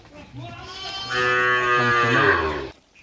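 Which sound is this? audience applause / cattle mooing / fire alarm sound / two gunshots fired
cattle mooing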